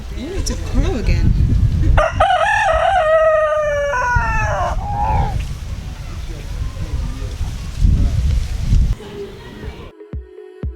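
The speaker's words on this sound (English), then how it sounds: "You need to crow again." A rooster kept at home among live poultry in Uganda gives one loud, drawn-out crow near the start, with clucking and people chatting around it.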